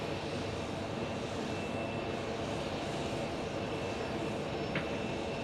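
Airliner on flight 884 from Phoenix Sky Harbor to Boston, a steady, even engine roar holding at moderate distance with no pauses or voices.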